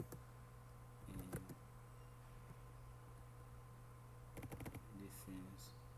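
Short bursts of typing on a computer keyboard during a Microsoft Word lesson, with a steady electrical hum underneath and two brief clusters of keystrokes near the start and end.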